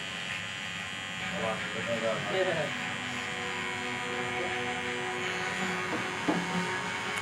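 Electric hair clippers buzz steadily while cutting a guideline near the temple and around the ear for a mid skin fade, a close, continuous drone with a voice talking over it.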